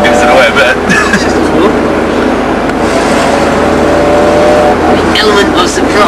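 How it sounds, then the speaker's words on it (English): A car engine rumbles with crackling exhaust overrun as it drives, loud and continuous, with people talking over the noise. "The overrun on the exhaust sort of gives it away a bit."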